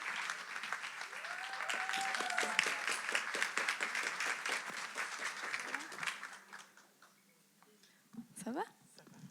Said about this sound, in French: On peut applaudir Jenna